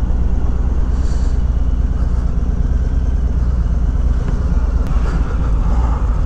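A 2021 Harley-Davidson Road Glide Special on the move produces a steady, loud engine drone mixed with wind rush, continuous throughout with no talk.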